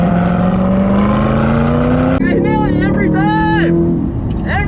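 A C8 Corvette drives hard around a wet-then-drying race track, its engine note climbing steadily through a long pull before a shift, then rising and falling under excited talk from inside the car.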